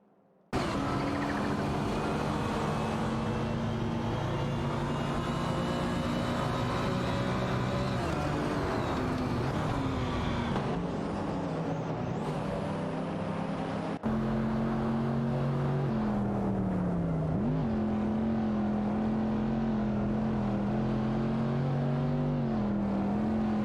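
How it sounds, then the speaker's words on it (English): Race cars in an AI racing video game drone continuously as engines rise and dip in pitch through gear changes and jockeying, staying loud and close throughout with a brief cut midway. "The battle for the top positions is intensifying as the cars continue to jockey for position."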